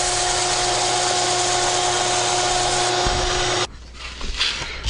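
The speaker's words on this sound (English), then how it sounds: "I got to sand that extra plastic off of it." Stabilized Buckeye burl pen blank sanded on a power sander, a loud steady hum with gritty rubbing that cuts off abruptly, followed by quiet handling noises.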